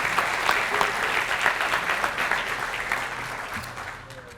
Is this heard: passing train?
no